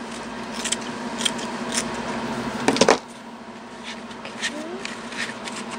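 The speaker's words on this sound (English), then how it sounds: "cut it down a little bit. So I can find my scissors." Scissors snip through lace glued onto a mixed media canvas, giving several close, crisp cuts with one louder burst of snipping in the middle. Someone speaks quietly in between.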